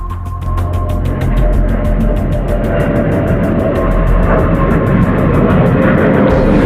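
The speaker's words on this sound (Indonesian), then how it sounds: "Pesawat-pesawat Firefly masih berpatroli di angkasa." A steady droning engine of a Firefly propeller aircraft, loud and sustained with a rapid pulsing beat, passing low overhead on patrol.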